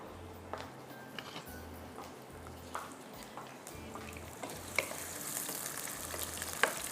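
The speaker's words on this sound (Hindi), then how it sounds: "इसको हम फ्राई करते हैं। ठीक है, अच्छा जी, ये प्याज थोड़ा सा ब्राउन हो रहा है" Onions browning in a pan give a soft, continuous sizzle with occasional stirring scrapes and clinks, fairly quiet and close, with no voice over the cooking.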